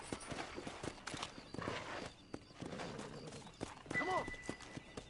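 A horse's hooves clip-clop at a walk over ground in Red Dead Redemption on PS5, steady and moderately close, mixed with game ambience and a brief whinny-like tone.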